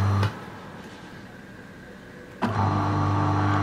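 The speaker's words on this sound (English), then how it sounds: "I entered the password 1234 and the motor started" An AC motor switched on through an Arduino password-controlled relay, a sharp click followed by a steady motor hum that starts abruptly and continues evenly to the end.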